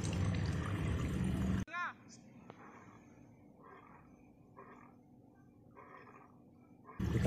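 Water is poured over a toy lion to bathe it, giving soft intermittent splashing bursts in a quiet stretch between louder passages with a brief voice sound.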